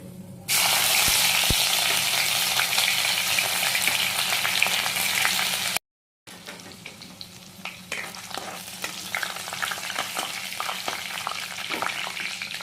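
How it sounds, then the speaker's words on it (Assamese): Three dried red chilies and bay leaves drop into hot oil, setting off a loud, dense sizzle that cuts out briefly, then returns as a softer crackling fry with spoon stirring clicks, close and with no voices. "তেল গৰম হৈ গ'ল। এতিয়া দি দিম শুকান জলকীয়া 3টা আৰু তেজপাত আৰু দি দিম ইয়াৰ পৰা আধা দি দিম।"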